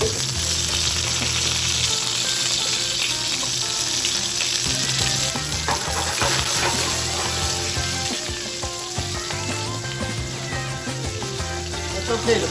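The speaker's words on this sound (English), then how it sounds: "And you want to bring that to a nice simmer." Tomato pizza sauce simmering and sizzling in a hot pan at a pizza bar, a steady crackling hiss with occasional stirring and clinks, continuous and fairly close with no talk over it.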